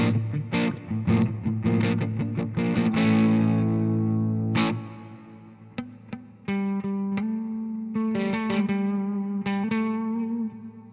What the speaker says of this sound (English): it already starts motivating me to play just by turning on that Atlantic reverb